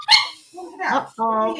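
A dog whimpers and cries in a home kitchen, giving a high yelp followed by a longer whining cry, close and loud, with a brief spoken word from a person.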